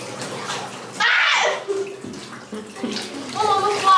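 Water pours into a bathtub, a loud rushing gush that starts abruptly and then runs unevenly, while people talk nearby.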